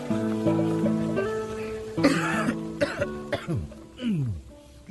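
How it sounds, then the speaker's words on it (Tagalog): A man with a bad cough hacks repeatedly, in several rough, close bursts over a low steady tonal background, with harsh breathy spasms clustered near the end. "Mukhang sama niyang ubo mo ah."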